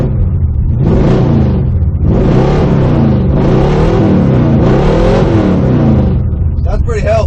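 A repaired old truck engine, either a 1970 GMC or a 1959 Dodge, rumbles at close range and revs up and down in four or five strong, rising-and-falling bursts.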